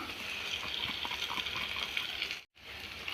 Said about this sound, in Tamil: மிக்சி ஜார கலக்கி தண்ணி ஊற்றிடுவோம்